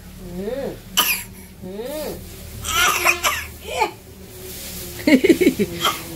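Several sharp coughs burst out between stretches of a person talking in a Bangladeshi village kitchen where leafy greens are being prepared; the coughs are close and fairly loud.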